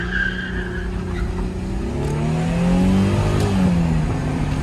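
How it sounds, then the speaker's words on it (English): Brief tire squeal from a 2010 Mercedes E350 coupe launching hard, followed by the engine pulling strongly up through first and into second gear, loud and close with no talking. "a little tire squeal and then a strong uptake into first, second shift"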